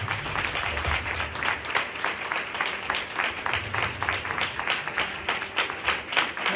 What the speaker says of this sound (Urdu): زوردار تالیوں میں.